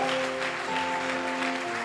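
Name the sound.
church congregation applauding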